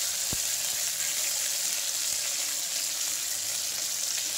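Curry leaves, two chillies and onion fry in hot oil, giving a steady loud sizzle that fills the whole stretch, with a faint tap near the start and no talk.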